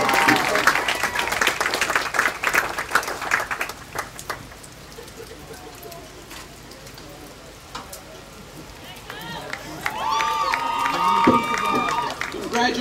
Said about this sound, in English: show by your tremendous applause for Coach Enza Steele that she is second to none